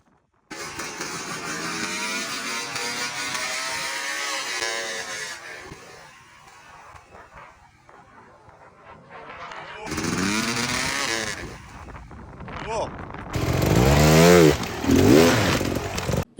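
A hard enduro motorcycle engine revs loudly and close while building power on an obstacle, rising in long surges that drop away and then return in stronger bursts.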